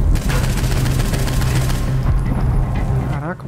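Gunfire in the video game Saints Row IV, a loud, rapid burst of automatic shots with booming impacts filling the whole clip, close and dense, thinning out at the end.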